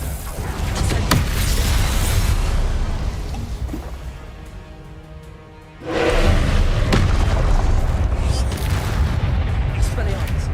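Spell-casting blasts from a fire spell in the Hogwarts Legacy video game: loud booming, crackling bursts with a brief dip before another heavy surge, dense and continuous.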